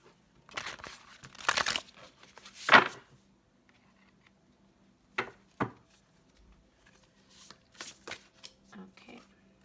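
Tarot cards are shuffled by hand in several separate riffling bursts, close and fairly soft, with pauses of near quiet between them.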